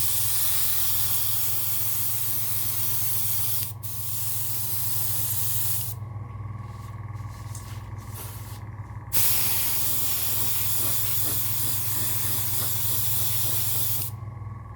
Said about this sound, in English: now to apply the base coat of 10 parts Vallejo's White Grey to 1 part